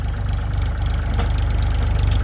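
A Kubota L3608 three-cylinder, four-wheel-drive tractor from 2011, used, idles with a steady low rhythmic diesel chug and throb throughout, close and fairly loud with no talk over it.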